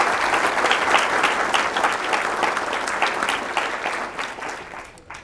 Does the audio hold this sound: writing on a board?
no